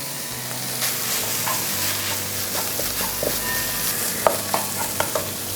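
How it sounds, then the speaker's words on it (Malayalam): Crushed beef sizzles steadily in a pan of cooked-down masala for a beef cutlet, with a continuous frying hiss and occasional scrapes and clicks of stirring, close and fairly loud, with no talking. "നമ്മൾ ബീഫ് ഒന്ന് ക്രഷ് ചെയ്തെടുത്തിട്ടുണ്ട് അത് അങ്ങ് ചേർത്ത് കൊടുക്കുകയാണ്"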